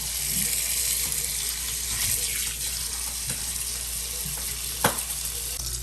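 Water is poured into a pan of cooking bihon rice noodles, giving a steady rushing, faintly sizzling wash with a few small knocks, no voices.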